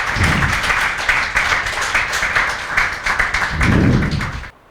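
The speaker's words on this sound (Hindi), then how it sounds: "सुरेंद्र कुमार मारन के लिए जोरदार तालियां बजाओ बजाओ" A classroom crowd claps for a student in a live course session, a dense patter of hands going on steadily for a few seconds before cutting off abruptly.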